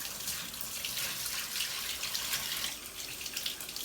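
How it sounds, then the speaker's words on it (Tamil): Tap water runs steadily into a sink, a continuous splashing hiss with small shifts as a crab is rinsed under the stream. "இமீடியட்டாக வந்து ரன்னிங் வாட்டரில் வாஷ் பண்ணலாம்"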